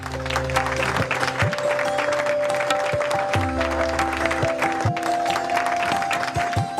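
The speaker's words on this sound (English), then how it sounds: "let's applaud Isha and the entire retail team for their superlative achievements" An audience applauds steadily in a large hall at a corporate annual general meeting of shareholders. The clapping runs throughout under a low tonal hum.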